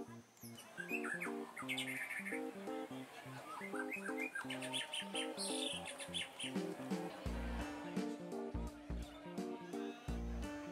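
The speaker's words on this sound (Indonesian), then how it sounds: "burung murai yang memiliki suara yang cukup indah" A magpie robin sings and calls in quick, bright phrases over steady rhythmic music at an animal lovers' gathering place in Bogor, with chirps and whistles scattered throughout.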